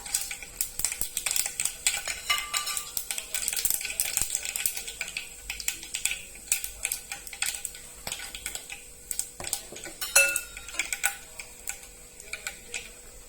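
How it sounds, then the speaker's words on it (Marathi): Cumin and mustard seeds hitting hot oil in a pan for restaurant-style chole masala, giving a steady crackle of sharp pops and ticks that runs throughout, close up and fairly quiet. "तर त्याच्यामध्ये आपण जिरे, मोहरी टाकणार आहोत"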